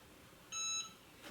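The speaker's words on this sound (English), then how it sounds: "Till it beeps." A single short electronic beep from a Cricut EasyPress 2 heat press, clear and brief against quiet background hiss.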